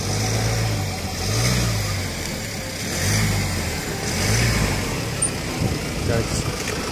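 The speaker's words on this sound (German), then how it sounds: "Ein Auto." A car passing nearby on a street while children skate on Heelys, a mid-pitched engine hum swelling and fading in a few waves, moderately close, with people talking and outdoor noise around it.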